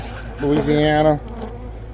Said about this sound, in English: I was hired to remove 3 beehives here on the property.